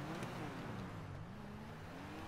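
Car drifting on snowy roads of Los Santos in GTA 5 Online, a quiet, steady engine drone with slowly wavering pitch as the car slides, no talking.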